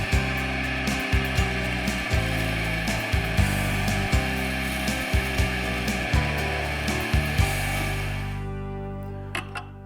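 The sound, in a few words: wet dry grinder grinding chisel bevel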